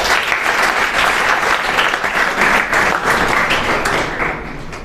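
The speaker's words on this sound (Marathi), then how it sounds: "टाळ्या वाजवू." An audience at a college event claps in a sustained round of applause, dense and fairly loud throughout, tapering slightly in the last second.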